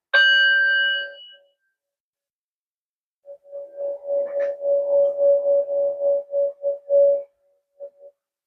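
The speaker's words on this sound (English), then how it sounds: "let's call in spirit by banging on the gong" A struck gong rings out at the start and decays over about a second, then after a pause a softer, sustained metallic hum swells and pulses in uneven beats before fading, with no talking.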